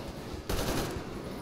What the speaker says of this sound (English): like a gun platform coming down